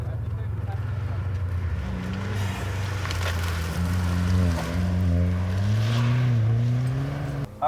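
A Volkswagen Golf R sets off on an autocross run, its engine droning steadily and rising in pitch as it accelerates, heard from inside the car while someone talks over it.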